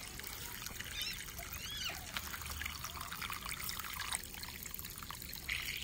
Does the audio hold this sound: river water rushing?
yes